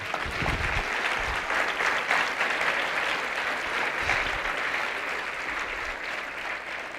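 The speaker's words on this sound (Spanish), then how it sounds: "Dale palmas a él." A church congregation applauds during a service, a dense, steady wash of many hands clapping that holds at an even level throughout, with a faint low rumble underneath.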